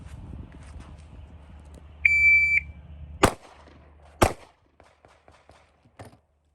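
A Glock 27 subcompact pistol fires on a range. A short electronic timer beep is followed by two sharp, loud, close shots about a second apart, then near silence.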